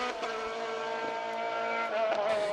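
A Tatus Formula Master single-seater race car engine holding a steady, loud, buzzing harmonic drone at high revs, with a brief pitch lift near the end, alone with no talk.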